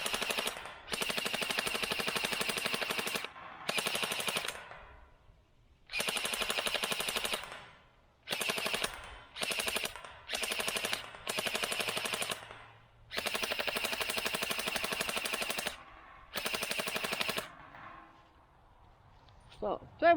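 Rapid bursts from hopper-fed SKD CS001 gel blaster toy guns firing gel balls, a dense buzzing rattle in repeated strings of one to four seconds separated by short pauses, close and loud.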